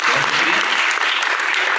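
Audience at an Urdu poetry mushaira breaks into dense, steady applause, a continuous wash of many hands clapping at close range throughout.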